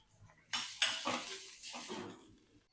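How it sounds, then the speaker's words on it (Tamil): Green chilies stirred in hot oil in a kadai, with a metal spoon scraping and clanking against the pan in several loud, close strokes over a soft sizzle. "ஆயில் கொஞ்சம் சூடான உடனே இந்த பச்சை மிளகாயை அதோட சேர்த்துடணுங்க. இதை கொஞ்சம் நல்லா வதக்கி எடுக்கணும்."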